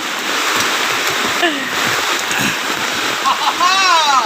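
Typhoon floodwater gushes and splashes into a house in a loud, steady rushing stream, close up, with people talking excitedly over it.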